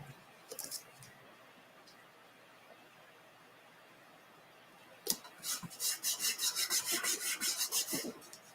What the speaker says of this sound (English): So I'm going to burnish it really well.